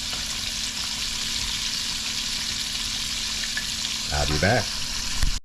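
Chicken drumsticks fry in hot oil with a steady, dense sizzle throughout, swelling briefly near the end as pieces shift; a voice speaks a short phrase over the frying.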